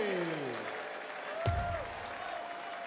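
Crowd applause at a darts world championship match, a sustained wash of clapping and cheering from a large audience under a commentator's voice.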